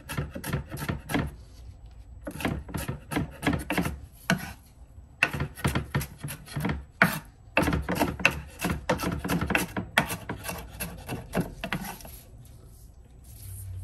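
A knife chops sweet red pepper finely on a cutting board in quick bursts of sharp, close taps, with short pauses between runs and no speech.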